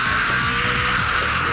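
A V8 Supercar engine screams near its 7,500 rpm rev limiter during the 2003 Surfers Paradise street race, a loud, continuous, close-up roar with a steady high-pitched whine.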